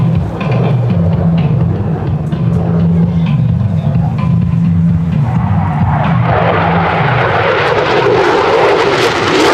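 A P-51 Mustang at an airshow banks sharply across show center, its piston engine a loud, close rumbling drone that swells into a broader roar in the second half as it sweeps past.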